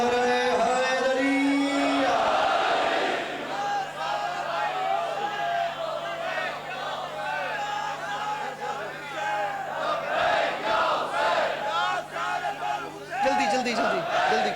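A crowd at a majlis gathering in G/6-2 Islamabad shouting the Nara-e-Haidari slogan, loud massed voices calling out together and rising in waves, with a voice among them.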